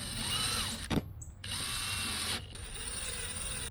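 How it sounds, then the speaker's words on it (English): A power drill bores a hole into a generator frame for a rivet, whirring steadily in two bursts with a short click and pause between them, close up and with no talking. "There's plenty of room there to drill."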